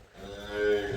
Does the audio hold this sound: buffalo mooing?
yes